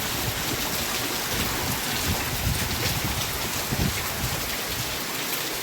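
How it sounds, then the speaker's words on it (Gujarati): Heavy rain pours in Rajkot, a dense, steady hiss of falling water on surfaces, loud and continuous without speech. "આજ તો આવી જ ગયો વરસાદ બહુ ગરમી ને એ વાડામાં તો પાણી ભર્યું"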